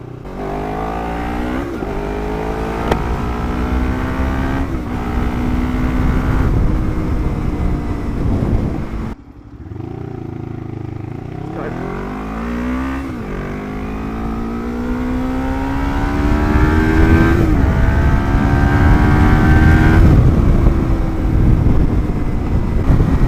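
Lexmoto LXR380 motorcycle engine heard while riding, a loud close drone rising and falling through repeated gear changes and revs, with a short lull before climbing again and holding a strong steady pitch.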